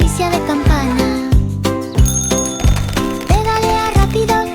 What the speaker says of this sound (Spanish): El timbre hace ding, ding, ding, ding, ding, ding, ding.